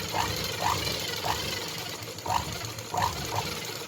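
A sewing machine stitches thread piping onto a blouse, running in short, regular bursts of mechanical whirring with brief pauses between them, close and steady, with no talking.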